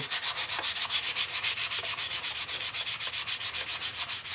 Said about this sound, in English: you want to use a lighter grit sandpaper